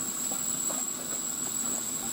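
A steam train stands at a heritage railway station, waiting to depart back to Sheffield Park. A steady, fairly loud hiss of steam runs throughout with a faint high whine and no voices.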